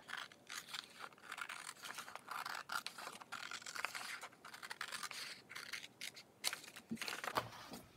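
Scissors or a craft blade cutting out pieces of a home decor sign along faint lines, a steady run of close, quiet scratchy snips and scrapes with brief pauses, no talking.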